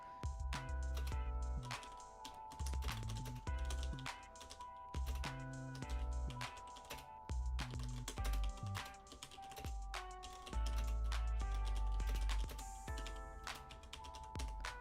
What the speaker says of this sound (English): I don't know if you guys can hear my typing, the clickety clack of my keyboard